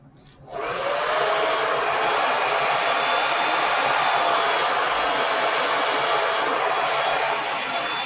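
A hair dryer switches on and blows a loud, steady, broadband rush of air while hair is straightened with a rotating brush, holding constant for several seconds with no speech.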